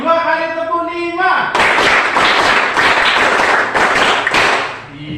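A classroom of children claps together in a counted rhythm, a burst of sharp, loud, overlapping claps in quick groups that follows a teacher's spoken count and ends as talk resumes.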